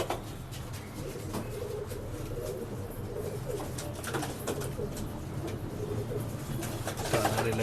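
Pigeons coo in a pet shop in Bangalore, soft repeated low coos over a busy background with faint rustles and distant chatter.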